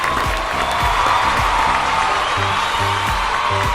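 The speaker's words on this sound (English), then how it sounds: "Keep the claps coming." A large audience at a quiz final prize ceremony claps steadily, a dense, continuous wash of applause with a little cheering, fairly loud and sustained throughout.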